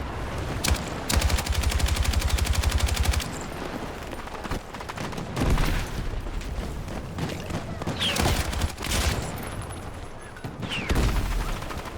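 Rapid bursts of automatic gunfire from a weapon in the video game Battlefield 6, loud and close, with repeated stretches of fast shots amid game combat noise and explosions.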